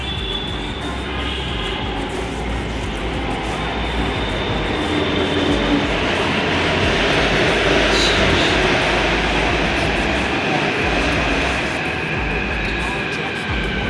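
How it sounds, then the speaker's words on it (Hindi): Hyderabad Metro train pulling into a station, a loud continuous rumble and rising rail roar that swells toward the middle, with voices and background music mixed in. "ट्रेन भी आ गया है"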